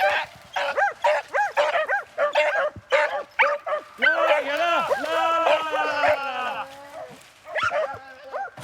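Hunting dogs on the chase after a rabbit, giving repeated sharp barks and drawn-out baying yelps close by, with several voices overlapping in bursts and a long howling stretch in the middle.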